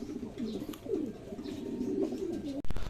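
Racing pigeons resting at their loft coo in soft, repeated rolling calls, close and clear, with several birds overlapping and a brief knock near the end.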